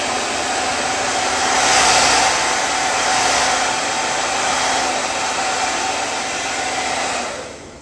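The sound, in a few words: hair dryer blowing warm air to dry eyelashes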